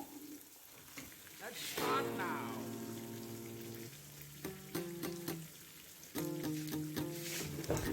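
Kasuri methi egg bondas frying in oil on a medium flame; a soft, steady sizzle and crackle running throughout, partly covered by other tonal sounds, with no voices.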